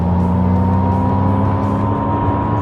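An MG Cyberster electric roadster accelerates hard in sport mode on the back straight of the Buddh International Circuit, a loud, steady electric motor whine with strong tonal hum and rushing wind and road noise, unbroken and close.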